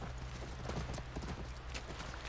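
Horse hooves clip-clop in a steady walking rhythm in The Last of Us, soft and fairly close over a low ambient drone, with no talking.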